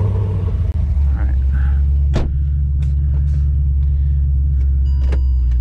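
A car pulls in with a low steady engine rumble and idling drone throughout, with a few sharp clicks and knocks over the top.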